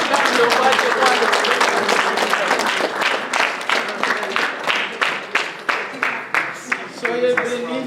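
A church congregation applauds and cheers: dense clapping that thins into distinct rhythmic claps, with voices shouting and cheering over it.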